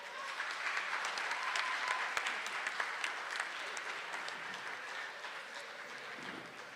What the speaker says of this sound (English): let's give them both a huge round of applause for an excellent job.